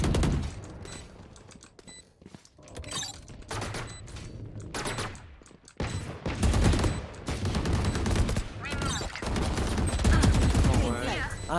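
Gunfire in the shooter game Valorant, dense bursts of rapid shots and loud cracks that run almost without a break, with players talking over the fire.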